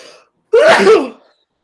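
A single sharp sneeze from one person bursts out loud and close after a brief quiet, lasting well under a second before fading.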